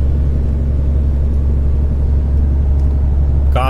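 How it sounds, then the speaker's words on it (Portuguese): An English car passes on a European road, heard as a steady, loud low engine rumble and road drone from inside a truck cab, with a short sharp noise at the very end. "Carro inglês passando aqui, tá longe, hein?"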